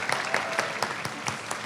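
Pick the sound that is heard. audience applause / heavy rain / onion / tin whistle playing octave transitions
audience applause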